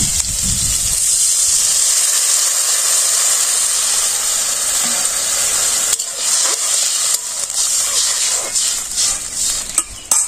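Spices going into a pan of fried local river fish give off a steady, loud hiss and sizzle throughout, with faint stirring scrapes and clatter near the end.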